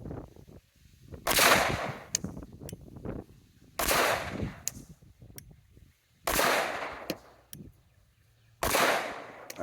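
Four sharp gunshots from a Tisas 5.7 pistol fired at a target on an outdoor range, evenly spaced about two to two and a half seconds apart, each loud and cracking with a short echoing tail.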